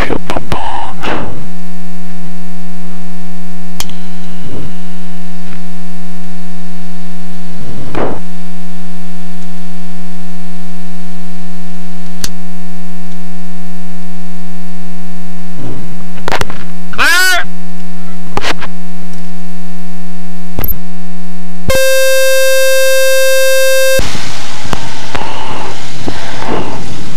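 An RV-7 light aircraft's piston engine starts up and runs with a steady, loud droning hum, punctuated by occasional clicks and knocks, before a brief high whining tone near the end.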